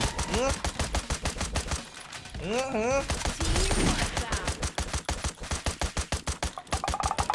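Rapid gunfire from the video game Free Fire rattles in dense bursts throughout, loud and continuous, with players talking excitedly over the shots.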